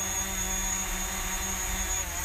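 A DJI Mavic drone lands itself, giving off a steady, whining propeller hum with high tonal buzzing that holds even and continuous throughout, moderately close.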